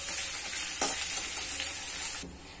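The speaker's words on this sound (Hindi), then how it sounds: "इसे फ्राई करेंगे, इसे हल्का फ्राई करेंगे" Urad and chana dal frying in a pan for a South Indian kara chutney, a steady close sizzle with faint stirring scrapes that drops abruptly quieter near the end, no one speaking.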